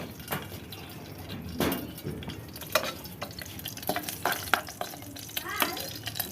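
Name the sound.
green chillies frying in oil until crispy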